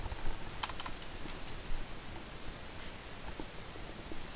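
Keys tapped on a computer keyboard while deleting C# code in a programming lesson, a quiet, close, irregular clatter of keystrokes with no speech.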